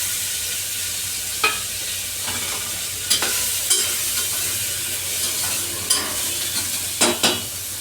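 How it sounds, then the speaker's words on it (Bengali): Spices hit hot oil for lentil dal and sizzle loudly up close, broken by several sharp scraping stirs and utensil clatters against the pan, with no talking. "এখানে যে মশলাগুলো আছে সবগুলো একসঙ্গে আমি দিয়ে দিলাম।"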